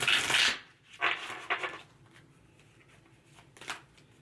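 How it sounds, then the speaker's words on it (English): Tarot cards being shuffled by hand in a few soft riffling bursts: a longer burst at the start, two shorter ones after, and a final brief flutter near the end, close and fairly quiet with gaps of near silence. "All right, one more shuffle here. One more shuffle."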